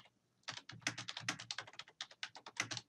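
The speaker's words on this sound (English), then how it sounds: "I can start typing." Quick, irregular keystrokes on a computer keyboard while text is entered in Illustrator, a close, steady patter of clicks running almost the whole time with no talk.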